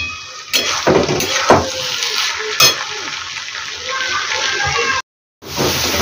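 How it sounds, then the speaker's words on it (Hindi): Leftover chickpea cooking water is poured into a sizzling chole masala in a pan, giving a loud, close hiss and bubbling fry with a few sharp splashes and stirring clatters. "ये जो छोले का पानी बचा हुआ है इसे मैं फेंकूंगी नहीं, इसे मैं इसी में डालूंगी।"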